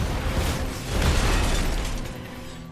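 A single loud explosion from the film Captain America: The Winter Soldier bursts out, its broad roar swelling then slowly fading over a couple of seconds.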